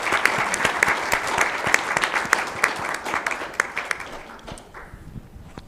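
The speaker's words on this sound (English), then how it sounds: "just another round of applause for our speakers" Conference audience applauds the speakers at a humanitarian energy event, a round of dense clapping with distinct hand claps near the front, holding steady before thinning and fading out over the last second or two.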